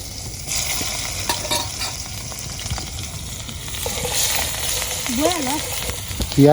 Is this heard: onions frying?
yes